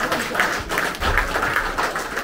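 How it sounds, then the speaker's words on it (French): Applause for a lady at a surprise birthday party: a steady patter of many hands clapping, moderately loud and sustained throughout. "Applaudissez pour elle."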